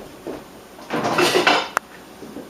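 A loose-fitting lid that only halfway covers a pan is set down on it in a kitchen, giving a short burst of metallic clatter and scraping that ends in a sharp click.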